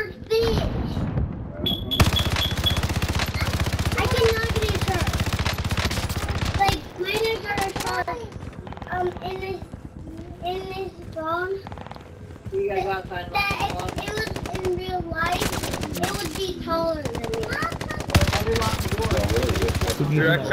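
Gunfire in a video game, rapid bursts of automatic fire and scattered shots crackling throughout, mixed under near-constant chatter from several players.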